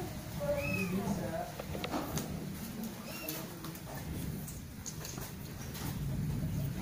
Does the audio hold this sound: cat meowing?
yes